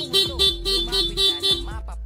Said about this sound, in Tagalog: stock horn lang yung tutunog, no?